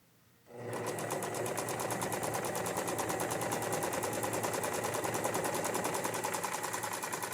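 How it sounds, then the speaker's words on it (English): A sewing machine runs steadily, stitching a zigzag over raw fabric edges for a 1950s-style dress, starting abruptly after a brief quiet moment and continuing as a fast, even, close hum of needle strokes with no talking. "when the needle goes over to the right, it is essentially encasing those raw edges in the zigzag stitch"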